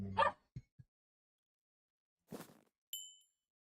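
A dog barks faintly in a house during a game session, a short yap followed by a couple of tiny clicks, then after a pause another muffled bark and a metallic clink.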